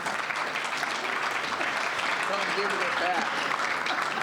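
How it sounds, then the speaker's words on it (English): Audience applause for the candidates at the close of a school board candidate forum, steady broadband clapping for about four seconds with faint voices murmuring underneath. "A round of applause for the candidates, please."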